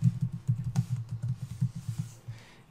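Rapid, steady typing on a computer keyboard, with close, even clicks in a quick rhythm that slows and fades toward the end, heard alone without talk.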